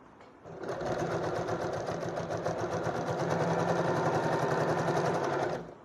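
Sewing machine stitching a hem seam in fabric, running continuously and steadily at close range with a fast, even mechanical chatter from start to finish.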